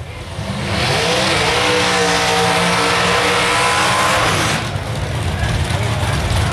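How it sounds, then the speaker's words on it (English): A Nova drag race car at Texas Raceway does a burnout, a loud sustained engine roar with rising revs and screeching tire noise for several seconds, then tapering into a rougher idle, with an announcer talking over it. "Our first grudge race of the evening is the Boston Nova going to do another burnout"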